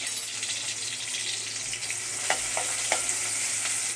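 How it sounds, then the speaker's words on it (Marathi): Chopped onion and two bay leaves sizzle steadily in hot oil, a continuous close hiss with a few sharp crackles and stirring clinks toward the end, no voices. "तेल व्यवस्थित गरम झालं आहे त्यामध्ये हा बारीक चिरलेला कांदा घालून घेते"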